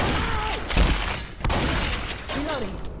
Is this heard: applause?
no